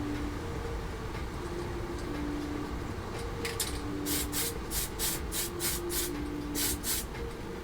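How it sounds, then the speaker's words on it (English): Flat clear coat sprayed from a can onto small model bombs for a 1/32 scale Tamiya F-51D Mustang, heard as a series of short, close hissing bursts in a quick irregular rhythm over a quiet hum, with no talking. "I'm just going to give my bombs one more coat of the flat clear."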